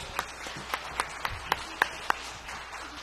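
A church congregation claps in a sparse, scattered way, about eight distinct claps spread across a few seconds in a quiet room rather than a full ovation.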